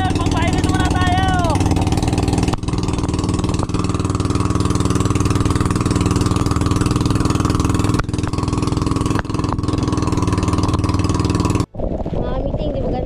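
A fishing boat's engine runs loudly throughout in rain, a steady, droning motor with a low rumbling hum and a voice speaking over it near the start.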